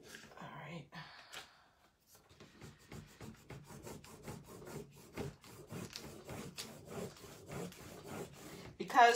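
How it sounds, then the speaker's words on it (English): A transfer is rubbed onto a squishy desk mat with repeated short scraping strokes, close and quiet, in an irregular steady rhythm after a brief pause. "it's taking a little more elbow grease to get the transfer to stick down"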